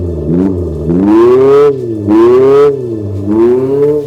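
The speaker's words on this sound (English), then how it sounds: "enough of all this fake engine noise" Synthetic engine note from the sound generator of a 2023 Abarth 500e electric hot hatch, rising and falling in three loud revving bursts with steady harmonic pitch sweeps, like a petrol engine being blipped, heard alone.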